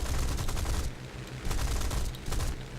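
A Ki-43 fighter's machine guns firing in the aircraft game War Thunder: three loud, rapid bursts of rattling gunfire separated by brief pauses, with no voice over them.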